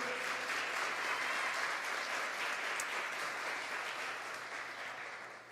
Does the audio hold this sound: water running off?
no